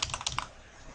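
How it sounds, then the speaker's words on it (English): Close, crisp keystrokes on a computer keyboard as an IP address is typed into a browser, a quick burst of about six clicks in the first half-second before it falls quiet. "we simply open a browser and type in the CME's IP address"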